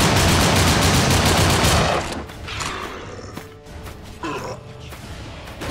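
Dense, loud enemy gunfire in the first-person shooter NecroVisioN: Lost Company, a sustained rapid barrage for two seconds, then thinning into scattered shots and clanks with no talk.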